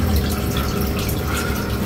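Water pours steadily and loudly into an aquarium during a water change in a crayfish tank, a continuous splashing rush with no pauses and no talk.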